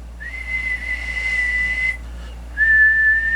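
A person whistles into the microphone of a Blackcat JB-12 CB radio, producing a clean steady tone that holds for nearly two seconds, breaks off briefly, then resumes, with a low hum underneath.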